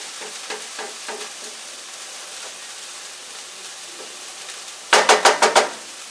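Pork chops fry in a pan over medium heat, a soft, continuous sizzle and crackle, followed by a brief burst of sharp metallic clatter near the end.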